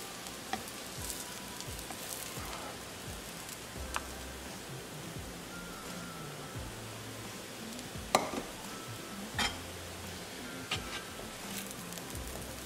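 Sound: dishing out cooked aloo methi bhurji from the pan

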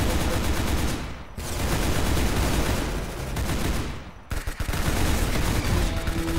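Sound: machine gun fire in video game Roblox Arsenal

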